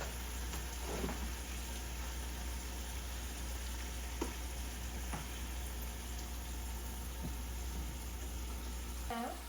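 A ginger and garlic blend sizzles softly and steadily in a pan, with a few faint kitchen clinks and scrapes over the continuous frying hiss and a low background hum.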